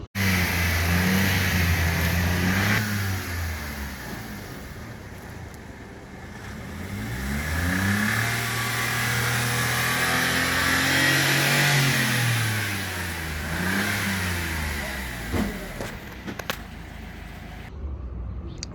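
A cheap abandoned Smart car with a failed clutch revs again and again, its small engine climbing and falling in long sweeps, close and fairly loud, with some rattling near the end.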